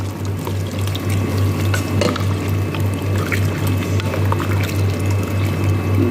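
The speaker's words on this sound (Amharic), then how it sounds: "ሙቅ ውሃ ጨምርበታለሁ እንደዚህ" Hot water is poured into a pot of Dubai-style salona laham meat stew with tomato and spices, a steady continuous splashing pour lasting several seconds over a low constant hum, with no talk.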